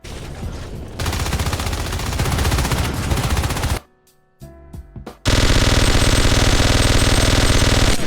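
Loud bursts of rapid automatic assault rifle fire in the video game Natural Selection 2, a short lull with a few scattered shots, then a sustained, very loud volley.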